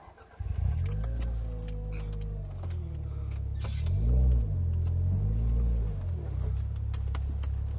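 A custom car combining Toyota Celica, Supra and Honda Integra parts hums steadily with low rumbling engine tones that rise and fall as it revs while driving, fairly close and continuous, with no talking.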